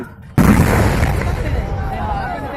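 Air defense battalion artillery fires during shooting practice: one sudden loud blast hits close, then a long rumbling roar decays over the following two seconds.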